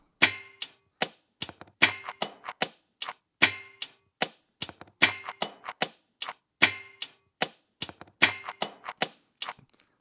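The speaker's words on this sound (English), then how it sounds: "I took a wooden spoon from the kitchen and I went across the wooden blinds and recorded that sound" Drum fill made from a wooden spoon run across wooden blinds, with crumpled magazine hits: a dense run of sharp, dry wooden clacks and rattles in uneven rhythm, close and loud with nothing else heard.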